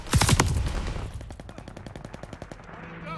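Gunfire in the multiplayer shooter Call of Duty Vanguard: a loud, close burst of shots opens, followed by a quicker run of fainter, evenly spaced reports.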